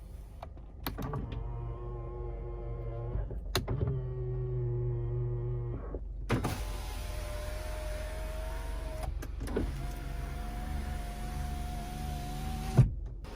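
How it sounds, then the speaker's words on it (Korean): Power-folding side mirrors on a Renault Samsung SM5 Platinum midsize car whir in several steady electric motor runs of a few seconds each, each ending in a soft click, close and clear, with no talk. "접이식 사이드 미러,"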